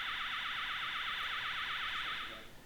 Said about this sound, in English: there's that host communication failure alarm that I talked about earlier